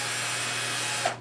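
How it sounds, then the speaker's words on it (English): A small drill fitted with a tiny bit bores a hole through a part for a lemon-themed deco mesh wreath, giving a steady, close motor whir for about a second before it cuts off. "So I just take my drill, and I have a really tiny drill bit that I use when I'm doing things like this."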